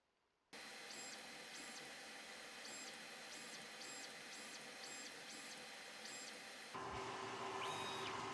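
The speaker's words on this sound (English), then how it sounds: "As this is printing, it prints the color first" An xTool apparel printer runs steadily after a quiet start, with a broad mechanical whir carrying rhythmic high-pitched pulses as the print head passes, then a shift to a louder, more tonal stretch near the end; no one speaks.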